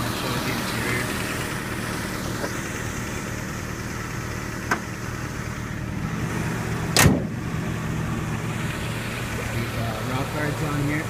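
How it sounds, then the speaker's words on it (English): A 1986 Toyota 4Runner idles with a steady low rumble while a sharp thump from the hood shutting lands near the middle, after a lighter knock a few seconds earlier, with the engine still running afterward. "So just gonna close up the hood and shut it off"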